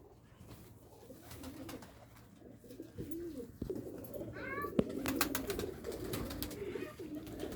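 Pigeons kept in Faisalabad coo in soft, repeated low calls nearby, with rustling, a few sharp taps and brief flutters mixed in.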